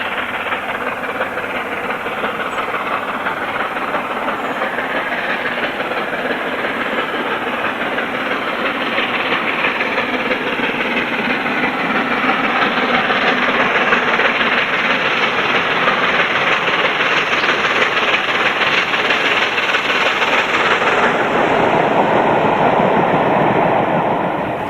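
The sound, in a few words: steam locomotive hauling the Cathedrals Express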